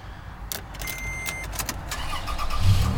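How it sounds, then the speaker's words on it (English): A 2008 Toyota FJ Cruiser is started from inside the cabin: a few quick clicks and a chime, then the engine cranks and settles into a low steady idle that swells slightly, heard up close. "We'll go ahead and turn on the car"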